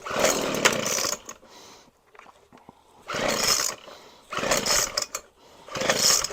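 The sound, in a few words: Weed Eater FB25 25cc gas blower engine running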